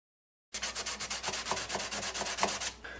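Sandpaper (3M Sand Blaster Pro) rubs against the body of a Takamine acoustic guitar in a quick, even back-and-forth rhythm of about a dozen close, raspy strokes after brief silence, then tapers off.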